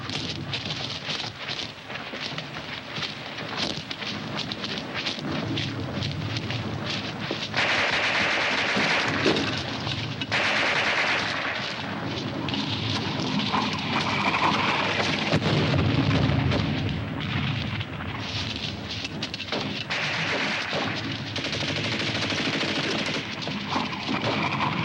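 Heavy battle gunfire from a 1951 war movie about a WWII unit: dense machine-gun bursts and rifle shots with booming artillery-like blasts, continuous and loud for the whole stretch.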